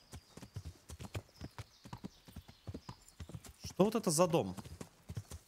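Horse hooves clip-clop in a steady, even rhythm in the medieval video game Kingdom Come: Deliverance, close and distinct, with a brief snort or whinny partway through while someone talks.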